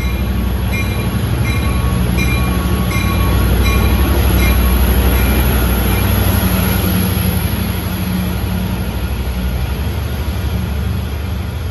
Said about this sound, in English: Here comes the Cannonball's equipment coming in from Jamaica.